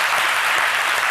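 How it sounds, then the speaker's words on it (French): A studio audience on a French-language midday television set applauds, a brief, dense and even burst of clapping heard on its own. "Ça s'applaudit"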